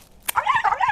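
Dogs give a quick, close burst of high, whiny yips and whimpering, lasting under a second and fairly soft.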